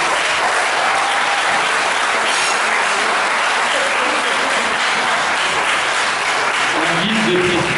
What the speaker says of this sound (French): est-ce que cette fois-ci vous pouvez acclamer votre orateur?